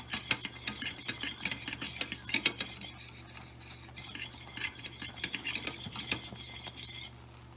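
A spoon scrapes and clinks steadily around a pot of boiling peanut butter fudge mixture, a fast continuous stirring rhythm, close and fairly quiet.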